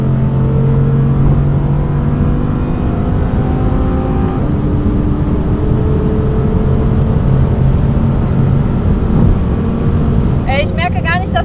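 An Audi R8 RWS engine pulls hard after a downshift, a loud, steady roar heard from inside the cabin with shifting tonal sweeps. Someone talks over it, and a brief chirp sounds near the end.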